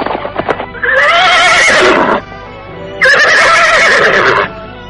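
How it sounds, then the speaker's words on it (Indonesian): Horse sound effects from a radio drama, set on a quiet night at a village border: two loud, close whinnies, each about a second and a half long, with hoof noise between them. "Dari jauh, terdengar derap 3 ekor kuda mendekat."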